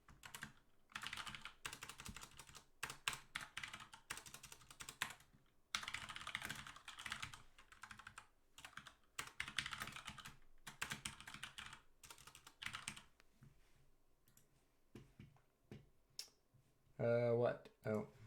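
Rapid typing on a computer keyboard during a college computer science class, dense bursts of key clicks with short pauses, close and fairly faint; a person talks near the end.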